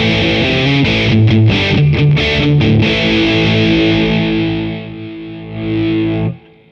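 A bass guitar heavily distorted through a BOSS BE-5B effects unit plays a few chugging notes, then lets a fuzzy chord ring out and sustain before cutting off abruptly.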